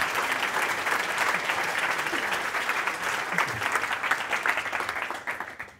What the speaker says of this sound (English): Can we get one more round of applause for Annabelle?